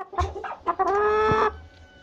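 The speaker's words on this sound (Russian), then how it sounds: "Это вот моя молодая куреха." A young hen clucks close by in a short burst of soft calls, followed by one sustained, drawn-out squawk that breaks off and leaves a quiet pause.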